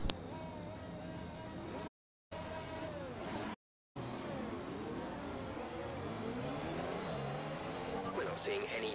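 A race car engine in the F1 2020 video game revs for a race start, its pitch climbing and falling through repeated surges, with two brief silent dropouts.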